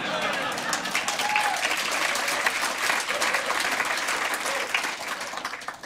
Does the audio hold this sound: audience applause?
yes